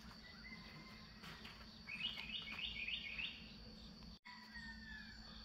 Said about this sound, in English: Cardinals, wrens, a couple of finches, towhee bunting.